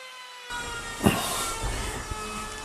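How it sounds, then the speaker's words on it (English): A router with a small round-over cutter shapes the edges of a curved wooden cutting board, starting with a sudden whine and a sharp bite into the wood. Then a steady loud buzz continues with small bumps. "Just a small cutter in the router."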